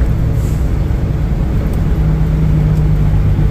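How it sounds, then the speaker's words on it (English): A steady, loud roar of fans blowing hard inside a truck cab, continuous whooshing over a low engine hum with no pauses. "You know it's warm out when my truck sounds like a wind tunnel."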